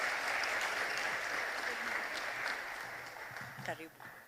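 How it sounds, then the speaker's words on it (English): An audience at an All Saints event for National Substance Use Prevention Week gives a loud, sustained round of applause that slowly tapers off, and a voice speaks near the end. "allow me to invite you to give a loud applause to Mr. Nyaga"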